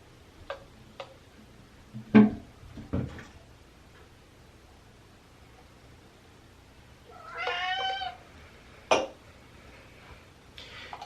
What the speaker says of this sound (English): You guys, I have my cat in here.